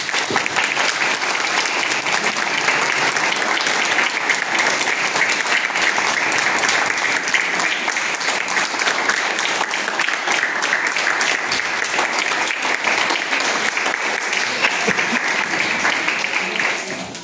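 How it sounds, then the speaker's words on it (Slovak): A big, sustained round of applause from a crowd at a church nativity celebration, loud and steady from start to finish with no break. "ešte raz veľký potlesk"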